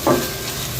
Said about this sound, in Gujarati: તો સાબુદાણા નાખી દઈએ.